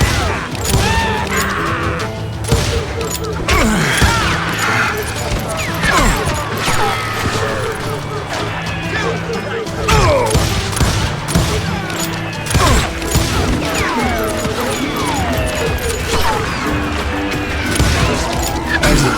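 Gunfire in the western shooter game Call of Juarez: dense, loud volleys of shots and impacts repeat steadily throughout, layered over a busy soundtrack.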